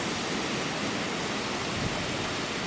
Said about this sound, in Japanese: 白金の滝だね。